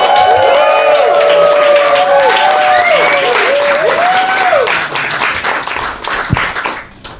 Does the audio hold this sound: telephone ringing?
no